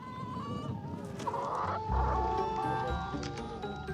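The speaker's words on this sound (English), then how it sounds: "John Brunquell freed the hens from their cages and gave them access to the open air" Hens clucking on a farm after being let out of cages into the open air, a busy cluster of close clucks and calls over steady background noise, no talk.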